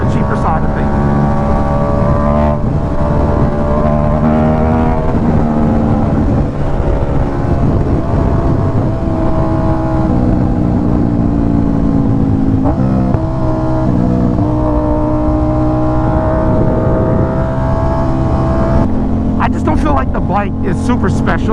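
Yamaha YZF-R1 sport motorcycle engine running and revving loudly and continuously, with rising and falling pitch, under a voice talking throughout.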